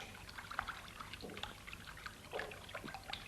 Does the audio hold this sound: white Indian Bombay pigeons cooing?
no